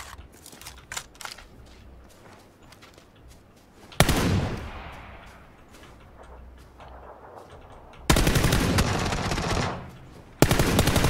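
Gunfire in PUBG (PlayerUnknown's Battlegrounds): scattered single shots, then a sudden loud burst followed by fading echoes, and a sustained automatic rattle near the end, with no talk over it.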